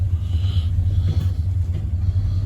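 A small truck drives slowly over greasy, slippery ground, its engine a steady, close, low rumble with faint road noise and no talking.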